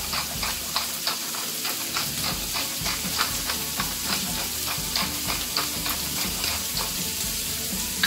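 Pieces of bacon sizzling and frying in a pan with butter, salt and pepper while being stirred, a dense steady crackle and hiss up close with faint scraping of a utensil and no talking.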